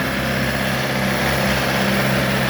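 Engine of a new 2023 Shifeng SF404C four-cylinder tractor with forced hydraulics runs at a steady, loud, continuous drone throughout, with no voices.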